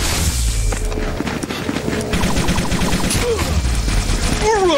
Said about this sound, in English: Looks like everyone's using guns now.